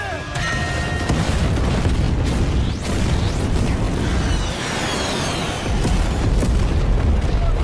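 Booming blasts and crackling debris from a bomb explosion in a Jackie Chan action film, a dense, loud, sustained roar with sharp bursts and whooshing effects layered over it.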